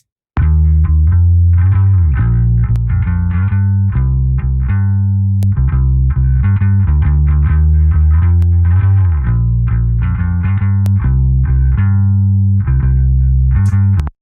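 Song bass processed through the Virelia plugin by Mixland, a thick sustained low line under a busy full mix with bright transient clicks, loud and continuous throughout, no voices.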